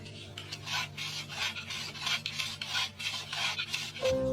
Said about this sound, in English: Saw off the log first